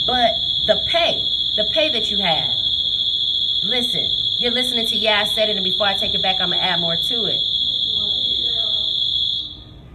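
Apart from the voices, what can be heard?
shop alarm going off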